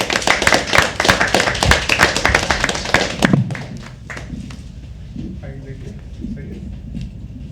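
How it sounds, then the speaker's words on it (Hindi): Audience clapping at a poetry open mic at The Habitat, a dense burst of many hands lasting about three seconds before fading into low room murmur. "keep clapping, keep clapping"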